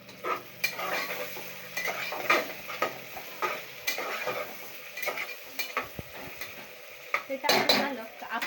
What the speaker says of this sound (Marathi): आता त्याच्यामध्ये आपण बटाटे टोमॅटो टाकूया